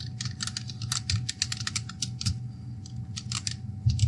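Python code is typed on a computer keyboard in quick, irregular bursts of close key clicks, with brief pauses and a low hum underneath.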